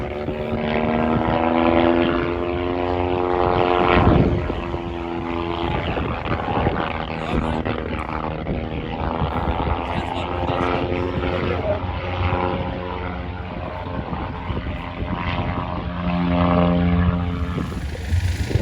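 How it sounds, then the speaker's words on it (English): Continuous droning World War One propeller aircraft engine roaring throughout, apparently with engine problems, at a Masterton drag racing event, with the pitch rising and falling as the plane passes, loud and fairly close. "we've got World War One aeroplanes crashing at the back there"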